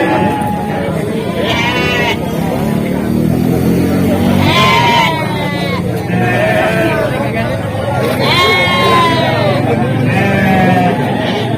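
Goats bleat repeatedly at a crowded livestock market ahead of Eid al-Adha, their calls rising over a steady babble of voices and background chatter.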